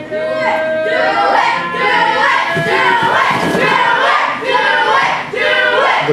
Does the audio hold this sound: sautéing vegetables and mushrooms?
no